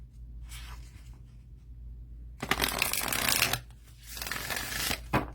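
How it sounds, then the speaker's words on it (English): Riffle shuffling a deck of Unity Oracle cards, close and crisp: a quiet start, then two loud fluttering riffles, each a rapid burst of flicking card edges followed by a short pause. "They riffle shuffle like butter."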